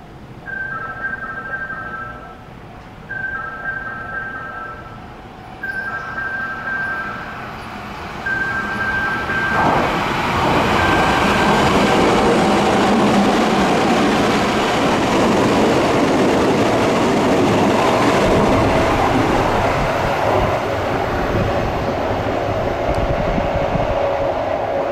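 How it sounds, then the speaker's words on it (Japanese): A Kintetsu Minami-Osaka Line train passes through a station at speed, starting after a few repeated high electronic station tones and then swelling into a loud, sustained rumbling roar that fills the second half and fades only slightly. "まもなく2番線の電車が通過いたします。"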